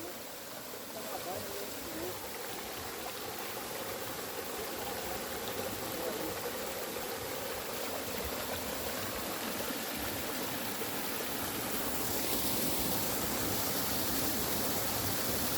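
Clear, transparent water flowing in a stream in the Brazilian Cerrado near Brasília gives a steady, broad rushing wash that stays constant throughout and rises slightly toward the end.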